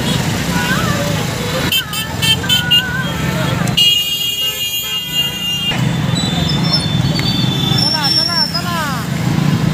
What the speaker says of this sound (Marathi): थोडंसं ट्रॅफिक जाम आहे इकडे या ठिकाणी।